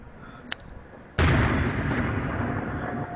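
New Year fireworks over Chicago: a sharp distant pop, then a sudden big boom that rolls on as a loud, sustained rumble and crackle for several seconds, with no talking.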